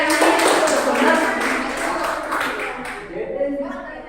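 A classroom of students claps hands for group one, a dense burst of applause that fades after about three seconds while a teacher speaks over it.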